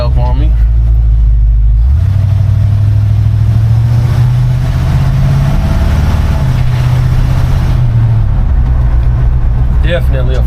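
A 1952 Chevy 3100 pickup truck drives along steadily, its low engine drone and road rumble loud and continuous from inside the cab, with a shift in pitch a few seconds in as the truck gets under way.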